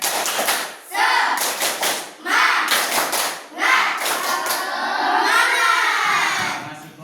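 Group of people doing a rhythmic 'tepuk semangat' cheer clap, bursts of patterned clapping mixed with shouted chanting voices in a room.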